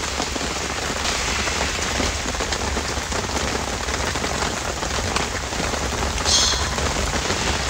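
Heavy rain pours down steadily at a car camping site, a dense, even patter and hiss of drops striking surfaces that continues unbroken throughout, with no voices.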